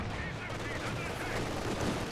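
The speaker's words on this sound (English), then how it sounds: "Oh, wait, AT grenade" Anti-tank grenade blast in a competitive real-time strategy match, heard as dense, steady battlefield gunfire and explosive rumble filling the whole stretch, with faint talk underneath.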